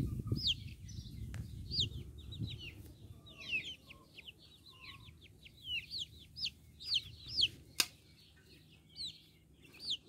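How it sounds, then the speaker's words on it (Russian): A Jersey Giant chick peeps repeatedly in thin, high chirps, scattered in quick clusters over a low background hum, fairly faint and a little distant. "Вот сейчас на заднем плане цыпленок гиганта Джерси."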